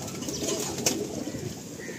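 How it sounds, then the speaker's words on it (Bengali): Young Rotela pigeons in a loft give soft, low cooing calls, close and gentle, with a brief sharper flutter or call midway and a quiet room murmur underneath. "ওই ধাড়িরই বাচ্চা এগুলি, রোটেলা বিলাটের পায়রা"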